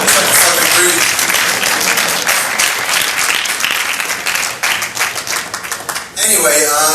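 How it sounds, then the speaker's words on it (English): Loud, dense applause from a drum clinic audience in Vestal, NY, with sustained clapping and some cheering close by that thins briefly near the end before swelling again, voices mixed in. "feel free to applaud as much as you like"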